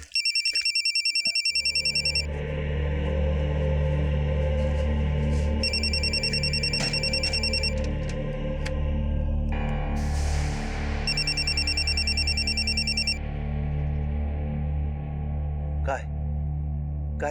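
A telephone rings in repeated bursts of electronic trills separated by pauses, over a steady low background hum and some indistinct movement, with no clear speech.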